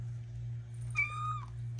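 Small female kitten gives one short, clear meow, alone over a steady low hum in a quiet room.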